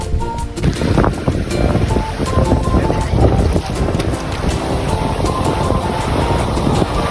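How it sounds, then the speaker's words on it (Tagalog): Rough sea waves wash against the shore in a continuous loud surf roar, buffeted by heavy wind noise on the microphone. "Medyo maalon nga rin dito guys, medyo delikado."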